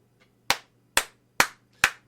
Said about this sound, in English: Let's give Byron Allen a round of applause.